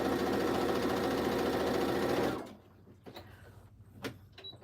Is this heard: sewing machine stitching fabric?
yes